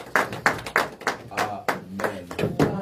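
Rhythmic clapping from a church congregation at a worship service, about eight sharp, evenly spaced claps close by, with voices underneath.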